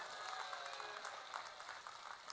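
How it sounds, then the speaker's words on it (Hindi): Audience at an outdoor public meeting in Mapusa, Goa, applauds candidates: a steady, distant wash of clapping from a large crowd, fairly faint and continuous throughout. "दोनों प्रत्याशियों के लिए जोर से ताली बजाकर स्वागत करो भैया"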